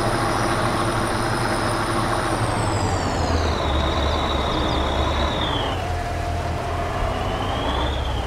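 A K700 tractor in Farming Simulator 22 strains to pull a giant tractor. Its engine drones loud and steady, with high whining tones that slide down in pitch. No one talks.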